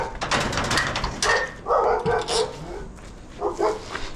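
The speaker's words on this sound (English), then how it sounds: "And Rufus is barking." A dog named Rufus barks in a quick run of sharp, close barks and yips, then a pause and a couple more near the end, outdoors.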